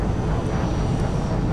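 Aircraft engine roar from a plane landing in the Kane & Lynch 2: Dog Days video game, a steady, dense drone held at even loudness from start to finish, with no talk over it.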